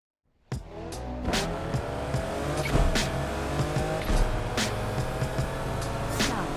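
A car in the Need for Speed Unbound video game starts up loudly and drives hard, its engine revving steadily with repeated sharp bursts and tire squeals over several seconds.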